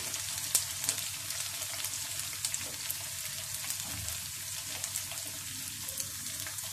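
Vada frying in oil over a low flame, a steady close sizzle and crackle with scattered small pops, running evenly throughout without talk.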